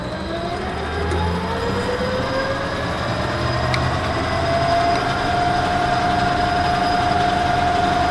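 Cold metal lathe spinning up and warming, a steady mechanical whine that slowly rises in pitch over a constant rumbling hum.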